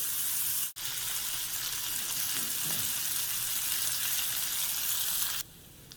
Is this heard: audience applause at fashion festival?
no